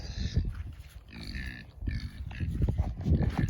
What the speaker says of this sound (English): Them pigs are sure noisy today.